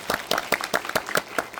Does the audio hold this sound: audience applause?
yes